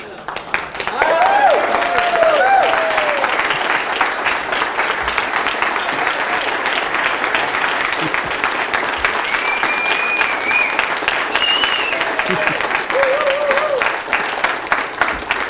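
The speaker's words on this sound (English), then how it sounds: "Let's stand up and give me a round of applause" Sustained applause from a seated audience rising to its feet at a business talk, dense steady clapping throughout at close range with cheers and voices mixed in.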